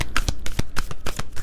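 Tarot cards shuffled and drawn in quick succession, a loud close-up series of crisp riffling flicks and slaps in an uneven rhythm with no talking.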